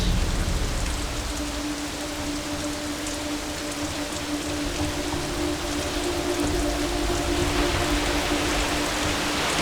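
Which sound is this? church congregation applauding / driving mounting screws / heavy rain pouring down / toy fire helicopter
heavy rain pouring down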